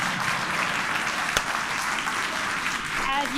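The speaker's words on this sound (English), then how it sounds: "Please clap." Steady crowd applause during a live SpaceX rocket launch broadcast after a first-stage landing, continuous clapping with a sharp click near the middle and faint tonal sounds near the end.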